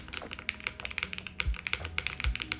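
Keys clack on a Monokei x TGR Tomo mechanical keyboard lined with PE foam, rapid close taps in an uneven typing rhythm, with a couple of deeper spacebar thumps mixed in.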